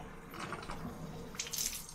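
Tap water runs from a faucet to wet a toothbrush tray, a steady close splash and trickle lasting about two seconds with a brighter gush near the end.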